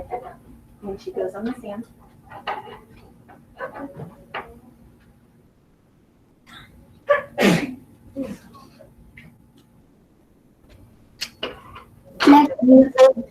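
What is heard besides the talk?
sneeze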